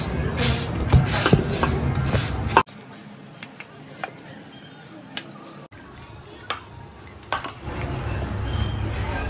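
Ingredients for an upvas fasting recipe being stirred in a bowl: a busy clatter of spoon against dish comes in bursts, separated by quieter stretches with scattered clinks.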